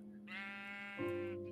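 A Minecraft sheep gives a single close bleat, a wavering tone that drops into a lower second part, brief and clear against a quiet background.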